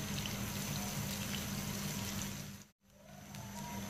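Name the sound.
sliced onions frying in ghee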